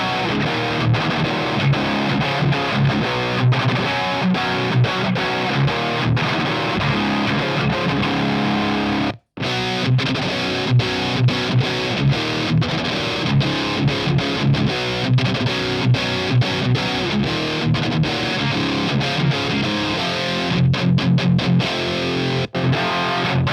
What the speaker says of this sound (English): and the 5150 sounds like this.